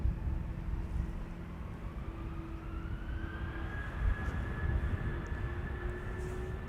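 An 18-year-old UR Airlines Airbus A320 departs Amsterdam Schiphol Airport with a steady, broad engine roar and a slowly rising whine. The sound holds at a moderate, constant level throughout, with no talking.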